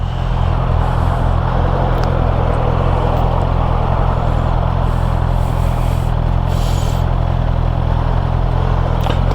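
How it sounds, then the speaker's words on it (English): A Honda CB650 E-Clutch motorcycle engine holds a steady, dense drone at a constant loud level, with no audible rise or surge and no talking over it. "I'm just going to accelerate off, and I'll accelerate a little bit harder off and see what the clutch does."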